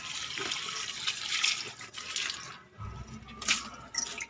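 Rice-washing water poured onto potted plants kept at ground level, a continuous splashing, trickling flow that swells and fades, fairly loud and close, with no voices.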